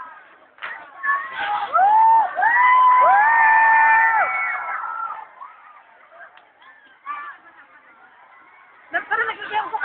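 A noisy crowd of Namaya people at a fireworks display shouts, whoops and cheers loudly and up close, dies down to scattered voices, then rises again in a brief burst.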